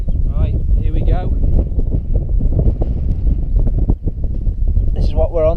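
Strong wind on the Pennine moors buffets the microphone in a constant low roar, while someone talks over it throughout.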